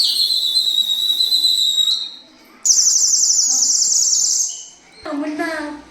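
A clay bird whistle filled with water gives loud, close, trilling high warbles like chirping birds, two long bubbling bursts followed by a lower fluttering run, with no talk.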